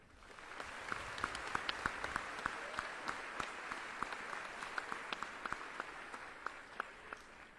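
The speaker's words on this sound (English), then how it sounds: "Please join me in a round of applause for my cadre." An audience at a Fort Jackson Army basic training graduation ceremony applauds the cadre, with fairly quiet but steady clapping and distinct individual claps standing out, heard at a distance.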